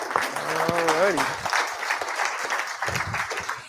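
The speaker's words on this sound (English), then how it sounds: "let's give a big round of applause to Rosch." An audience at an evening social event breaks into applause, a moderate wash of clapping heard under and after a speaker's voice.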